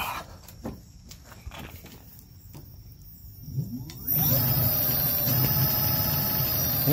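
An electric bike with a Votol EM-100 controller comes alive. Scattered faint clicks and knocks give way to a sudden, steady high-pitched electric whine and hum that stays close and constant. There is no talking.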